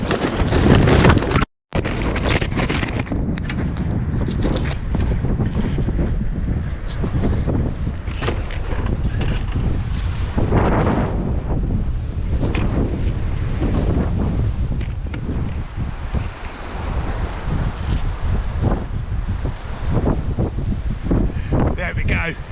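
Strong wind battering the camera microphone, a loud roaring rumble with constant gusty buffeting and a brief dropout near the start, while a voice speaks faintly underneath.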